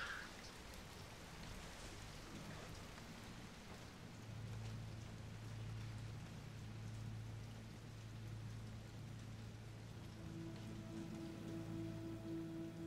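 Steady rain pattering on surfaces with a low rumble underneath, continuous and moderately near, no voices.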